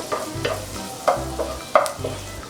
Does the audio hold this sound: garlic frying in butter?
yes